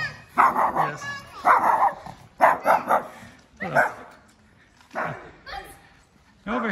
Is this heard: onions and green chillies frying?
no